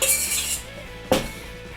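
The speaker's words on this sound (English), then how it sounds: "we're just going to ladle some of this salad on top of it" Salad ladled onto a plate over a base of avocado: a quiet ceramic clink of a serving utensil against the dish stands out at one point against a faint, soft background.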